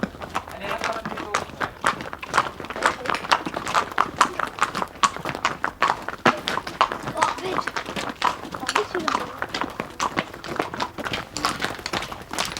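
Hooves clop steadily as horses and ponies walk at a pony club. The footfalls are close and continuous, with a voice talking over them.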